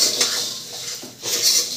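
Puffed rice (murmure) for a chivda pours into a pan as two short, bright rushing hisses with a light metallic rattle, close and fairly loud.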